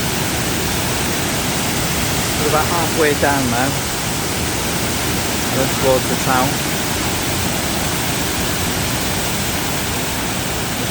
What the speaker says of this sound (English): not sure if you can hear me above the noise of this water